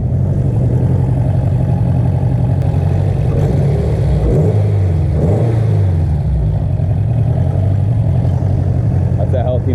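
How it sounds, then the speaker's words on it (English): A Honda S2000 engine runs loud and steady nearby, its low mid-frequency drone holding throughout with small swells like light revving, while someone talks over it. "That's a healthy motor right there."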